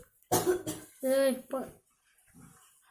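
A few harsh coughs in quick succession, close and fairly loud, followed by a quieter cough, with no other talking.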